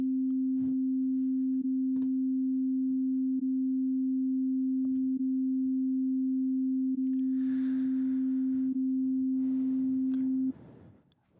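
A pure, steady sine-like tone from the Superfm FM synthesizer with only operator 1 sounding, held unchanged for about ten seconds over faint clicks and soft rustling, then cut off.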